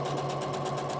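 A sewing machine stitches a seam on a cuddle blanket, a fast, steady, even mechanical whirring with a rapid rhythmic needle patter, close by and alone.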